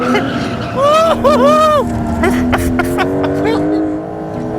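Porsche 911 engine at speed, a loud steady drone with sweeping pitch changes, then rising revs and several sharp pops or shifts, with tire and road noise around it.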